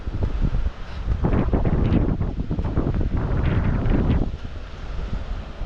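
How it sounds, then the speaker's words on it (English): Strong wind buffets a microphone out on the water while surfing in Hawaii on a cold day, a loud steady roar with gusty swells and surf wash underneath, no voices. "Windy day."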